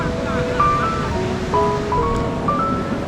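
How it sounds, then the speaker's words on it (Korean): Rough sea off Nusa Penida roars with a constant wash of breaking waves and wind buffeting, loud and close, with faint muffled voices and thin tonal sounds in the background. "파도가 장난이 아니에요 지금"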